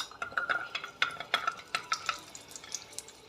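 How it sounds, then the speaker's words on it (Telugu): Garlic fries in oil in a pan while a utensil stirs and taps against the metal in quick, uneven clinks over a soft sizzle. "ఇప్పుడు నూనె వేసి కొద్దిగా వెల్లుల్లిపాయలు వేయించుకుందాం."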